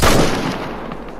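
A hunting rifle fires at a deer in theHunter video game, a single loud, sharp shot at the start followed by a long rumbling echo that fades away.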